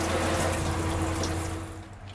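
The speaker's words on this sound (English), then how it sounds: "much nicer water pressure that we'll be able to shower with as well" Water sprays steadily from a new RV shower head with a constant hiss that fades slightly toward the end.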